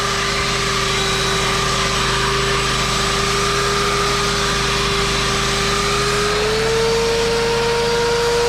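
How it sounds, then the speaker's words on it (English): Belt sander sanding oak for a crib, a loud continuous motor drone with a steady tonal whine and coarse abrasive hiss, close and unbroken, the pitch rising slightly toward the end. "I'm letting the belt sander do its thing."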